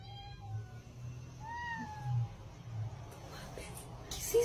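A cat meowing, framed as a spectre posing as a kitten, gives a few drawn-out, rising and falling meows over a low background hum, with a sharp noise near the end.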